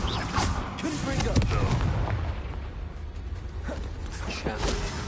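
A Confringo explosion spell is cast in Hogwarts Legacy amid a fight, producing booming, crackling blasts with rumbling low end, several bursts layered over ongoing game noise.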